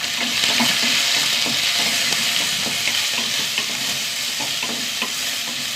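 Onion and green chillies sauté in a hot pan with a steady, dense sizzle that runs the whole time, broken by soft scraping stirs at irregular intervals.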